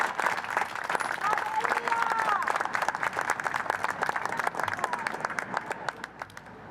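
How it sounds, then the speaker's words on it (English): Audience applause following the introduction of the Consul General of Panama at a speech event in New York, steady dense clapping from a crowd that continues throughout and gradually thins toward the end. "Please give him a round of applause."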